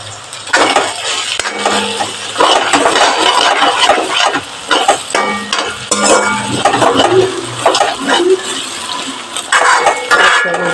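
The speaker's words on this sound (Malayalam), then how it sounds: "അതിൽ പച്ചമുളക് ഇഞ്ചി വേപ്പല എല്ലാം ഇട്ടുണ്ട് പച്ചമുളകും ഇഞ്ചിയും വേപ്പല അപ്പൊ അതിന്റെ പച്ചക്കുത്തി പോണ വരെ നമുക്ക് ഇളക്കി കൊടുക്കാം" Onion, green chili, ginger and curry leaves sizzle in a pan while a spoon stirs them, with steady close frying crackle and repeated scraping and clinks of metal on the pan.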